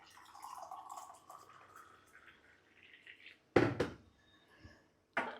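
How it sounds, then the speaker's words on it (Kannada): Hot water pours steadily into a glass with a rising filling tone, followed by a couple of louder splashy clinks and drips near the end. "ಹಾಗಾಗಿ ನೀರು ಹಾಕ್ಕೊತಾ ಇದ್ದೀನಿ"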